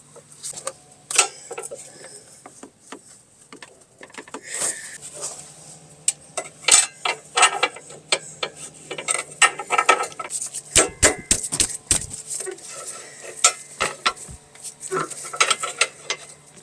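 A pry bar works a front lower control arm free of the steering-knuckle pinch joint on a 2013-or-later Mazda CX-5, giving irregular metallic clanks, knocks and scraping strain close by, with no talk.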